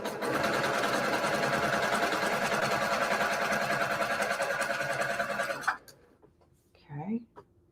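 A sewing machine runs in one continuous, steady stitching burst for several seconds while joining quilt pieces, then stops abruptly, followed by faint handling clicks and a short murmured voice.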